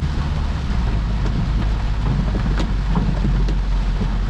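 Heavy rain pours steadily around a BMW driving through flooded Bangalore streets, with a deep low rumble of thunder and wind underneath and a few sharper drop impacts on the car, constant and fairly loud throughout.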